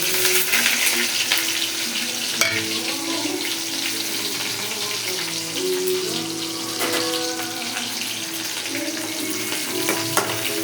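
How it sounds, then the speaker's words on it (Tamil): Curry leaves and onion drop into hot oil in a South Indian curry pan, giving a steady, close sizzling hiss and crackle that holds at a fairly even level throughout. "இப்போ கருவேப்பிலை வெங்காயத்தை போடணும்."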